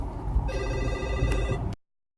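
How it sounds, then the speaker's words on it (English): A telephone ringtone goes off while someone is recording, a steady repeating electronic ring with bright layered tones that runs clearly for over a second, then cuts off abruptly into silence. "I had a phone call when I was recording."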